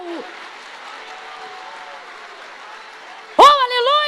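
A church congregation breaks into loud applause right after a long sustained tone from the preacher's voice, the clapping swelling suddenly near the end and continuing under an excited shout.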